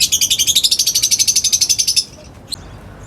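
Pet lovebirds kept in a small hut give a rapid run of shrill, evenly pulsed chirps close by for about two seconds, then fall quiet except for one brief chirp.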